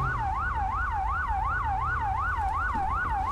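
A fire truck siren in GTA 5, responding code 3, wails in a steady fast yelp cycle, loud and continuous over a low engine rumble.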